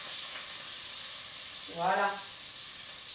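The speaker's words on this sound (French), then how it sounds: "Donc là, j'entends que ça crépite dans la casserole. Je vais tout de suite ajouter mon oignon." Chopped onion sizzles steadily in hot fat in a saucepan, a continuous close crackle throughout, with a brief spoken word midway.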